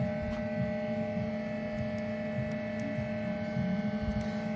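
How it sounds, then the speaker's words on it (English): Proturn 420 lathe motor at first power-up with its brake engaged, giving off a steady, close electrical hum with a faint throb and occasional small ticks. "The motor's obviously working because the brake has come on."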